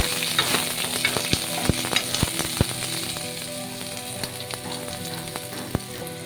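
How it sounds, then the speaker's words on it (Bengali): Chopped garlic frying in oil with dried red chillies and tempering spices in a pan, a bright continuous sizzle broken by sharp clicks of a spatula striking the pan as it is stirred, close up, no talking. "রসুন কুচি দিয়ে আমি নেড়ে নিব"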